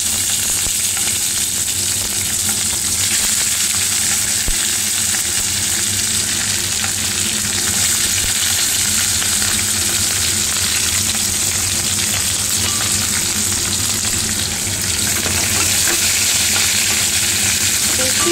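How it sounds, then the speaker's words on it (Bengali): Capsicum fries lightly in a pan for fried rice, giving a loud, steady, close sizzle that runs without a break and with no voices. "এরপরে আমি ক্যাপসিকামগুলোকেও হালকা করে ভেজে নেব।"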